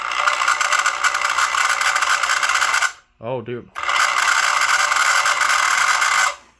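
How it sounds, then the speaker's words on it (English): A Lionel 665 toy train locomotive whistle blows loudly and steadily for about three seconds, cuts out briefly while someone speaks, then sounds again for several more seconds before stopping. "I think the whistle might need some help."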